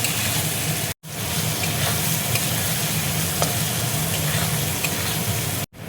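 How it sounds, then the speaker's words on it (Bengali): Ground cumin, black pepper and turmeric fry in hot oil for a mutton curry, giving a steady close sizzle with stirring scrapes and small pops, broken by two brief silent gaps. "এবার মশলাটা দেখো ভালো করে কষিয়ে নেব"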